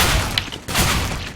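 Shotgun blasts ring out in Counter-Strike on de_dust during a competitive match, two or three booming shots in quick succession over busy game noise.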